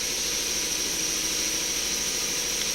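A steady, high-pitched motorized whir runs continuously at close range as a blender mixes a chicken marinade, with no talking.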